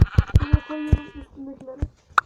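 Several short sheep bleats in Minecraft, some overlapping, with a babble of other calls and a few thumping steps between them, fairly close and loud.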